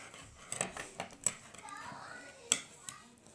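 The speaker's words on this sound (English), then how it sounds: "you can probably hear my 5-year-old in the background." A 5-year-old boy, excited about a game, chatters in the background during garter-stitch knitting, with light clicks of the needles scattered through.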